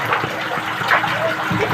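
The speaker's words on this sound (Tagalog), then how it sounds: "Grabe ang tulo. Ang lakas po ng tubig." Water rushes and gushes strongly inside an underground gold mine dig near Baguio, a continuous splashing flow with dripping, fairly loud and close, with no talk over it.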